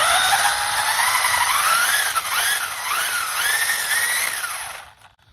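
A Laegendary Thunder RC car's tires are spun to warm them up. A close, high-pitched electric motor whine rises and falls in repeated surges with no talk, then cuts off at the end.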